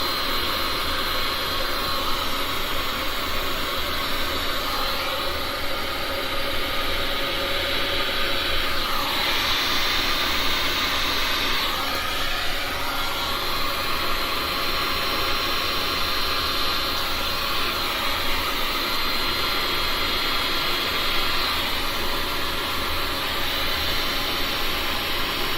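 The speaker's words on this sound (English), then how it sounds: "I can just use my heat gun to blow it over" A heat gun blows steadily over a poured resin painting, a loud continuous roar of air with slight shifts in tone, alone and without talk throughout.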